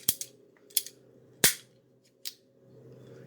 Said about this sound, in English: I'm going to take these rings that I just made, and I'm going to cut a slit in them